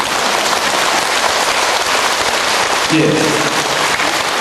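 Audience hand clapping in unison at a Korean health seminar in LA, a dense, steady wash of many claps filling the whole stretch, with a brief voice near the end.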